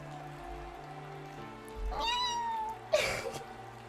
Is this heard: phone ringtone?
no